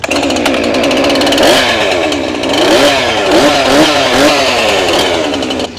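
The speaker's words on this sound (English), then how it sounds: "And you turned the chainsaw over." A chainsaw roars close up, its pitch dipping and rising repeatedly as it cuts up a tree limb, loud and continuous throughout.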